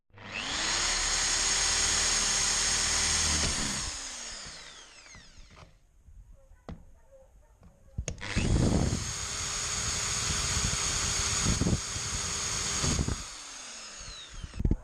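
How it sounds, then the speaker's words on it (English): Power drill fitted with an Allen key grinding out the old core of a fibreglass sailboat deck, loud whining bursts separated by a quiet pause, with clatter and scraping between runs. "You put the Allen key in the drill"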